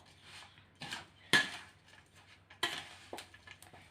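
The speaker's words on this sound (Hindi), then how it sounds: "अच्छे से इसको मिक्स कर लेते हैं" A spoon scraping and clinking against a bowl while stirring sweet gujiya filling, a few distinct knocks and scrapes spaced irregularly, close and fairly quiet with no talk.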